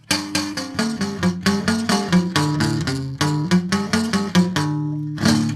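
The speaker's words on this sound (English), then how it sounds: "it sounds like this when you weave your Metro card through the strings of your guitar." Plucked guitar notes and strummed chords ring out with a buzzy, rattling edge on each attack from a Metro card woven through the strings, played in a lively rhythm with brief pauses.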